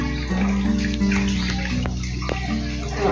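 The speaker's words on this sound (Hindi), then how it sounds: "अरे और पानी रेडना है" Water pours steadily into a container to mix a peanut seed treatment powder at a farm, a continuous close splashing flow with a low hum beneath.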